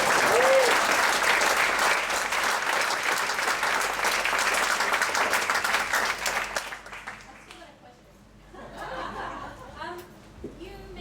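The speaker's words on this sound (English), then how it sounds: "please give a round of applause for them too" Audience applause for volunteers at a Pecha Kucha evening in Ubud, Bali: a dense, loud wash of clapping and some cheering that holds steady for about seven seconds, then fades into scattered chatter and a few voices.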